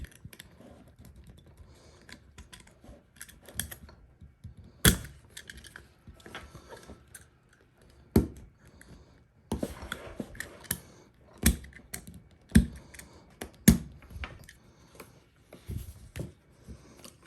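A knife cuts fly tags off a cattle collar for Belted Galloway cattle, giving close, sparse snips and clicks of blade on plastic, with quiet pauses between bursts of cutting and handling.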